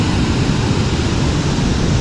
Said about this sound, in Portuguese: E a cachoeira.